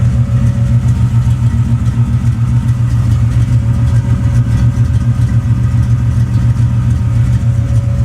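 A Chevrolet Nova SS engine runs steadily with no tailpipes fitted, a loud, close, even low drone with a throbbing mid-range hum and no change in revs, alone with no voices.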